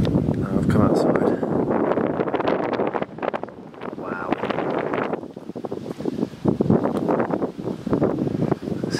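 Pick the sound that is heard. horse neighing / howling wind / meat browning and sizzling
howling wind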